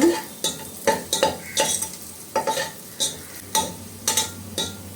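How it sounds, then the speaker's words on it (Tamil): Cashews and garlic sizzle in hot oil in a pan while a spoon stirs them, with a steady fry under repeated sharp scraping clinks against the pan, loud and close. "இப்போ முந்திரி பருப்பும் பூண்டும் நல்லா லைட்டாக ப்ரௌன் கலராக வந்துருச்சு"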